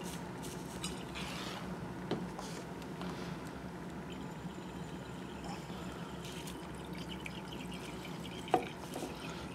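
Water rinses down the inside of a glass titration flask during a standardization against KHP, a soft, steady trickle and light splashing with a single sharp drip or clink near the end.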